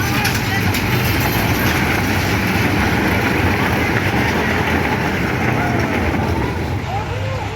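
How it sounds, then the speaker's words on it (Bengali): A train pulls away from its station at an air force museum grounds, a loud continuous rumble with rolling clatter, while people talk nearby throughout. "এই তো ট্রেন ছেড়ে দিচ্ছে।"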